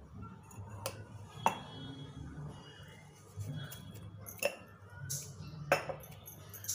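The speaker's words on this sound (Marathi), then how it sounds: "आणि आता हे मिक्स करून घ्यायचं आपल्याला एकसारखं" Spoon scraping and clinking in a bowl while potato vada batter is mixed, several sharp metallic taps spaced irregularly over soft stirring, close and fairly quiet.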